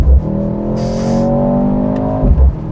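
A 2023 Mercedes-Benz C43 AMG accelerates hard from inside the car, its engine note climbing in a smooth rising rev that holds loud and close before easing off at the end.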